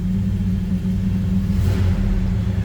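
A 1955 Chevrolet 3600 stakebed pickup with dual Flowmaster exhaust and shorty headers runs at a steady low idle, a deep continuous rumble close by.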